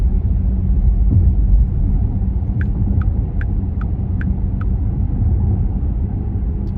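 A Porsche Taycan electric car drives along a road, heard from inside as a steady low rumble of tyres and road noise, with a short run of faint evenly spaced ticks midway.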